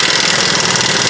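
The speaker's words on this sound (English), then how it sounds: "All right, I have my small gun, my nano." A half-inch nano impact gun hammers steadily on a corroded rear shock bolt of a Ford Focus, a loud, continuous rattling burst heard up close with no talk.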